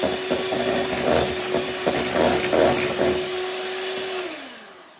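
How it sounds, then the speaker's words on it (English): Bread dough being mixed with melted butter, a steady mechanical whir like a stand mixer running throughout with rhythmic scraping bumps, stopping near the end. "Okay, let's mix it again."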